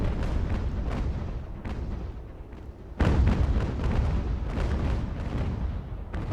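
Heavy naval cannon broadsides from sailing warships in Ultimate Admiral: Age of Sail, a dense stream of deep booms and crackling impacts with a sharp louder volley midway, continuous rumbling battle without speech.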